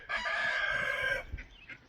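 A rooster on a homestead farm gives a loud, sustained crow close by, followed by a few softer clucks.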